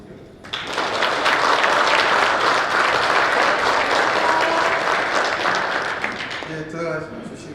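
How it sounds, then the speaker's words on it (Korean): An audience at a special lecture hall applauding the guest speaker, a former National Assembly secretary general, with loud sustained clapping from a large crowd for about six seconds before it fades and a voice begins. "다시 한번 우리 총장님께 박수 한번 주시죠."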